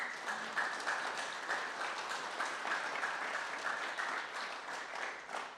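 Applause from a church congregation during a Sunday service fills the room, a steady, dense clapping that holds evenly for several seconds with no voices over it.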